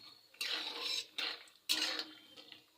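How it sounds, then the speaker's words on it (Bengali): Raw peanuts frying in hot oil over low gas are stirred with a utensil, giving a few close bursts of metallic scraping and clinking against the pan, with short pauses between strokes. "নাড়তে নাড়তেই বাদামগুলো ভাজা হয়ে যাবে।"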